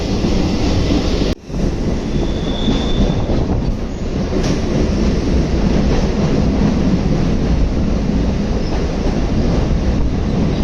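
A Chennai suburban local train running from Chennai Beach via Velachery to St. Thomas Mount rumbles steadily along the tracks, loud and close, with a brief dip near the start and faint metallic squeals above the continuous roar.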